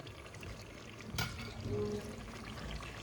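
Water pours briefly into a simmering potato curry, a short splashing gush in the middle over steady low kitchen background noise.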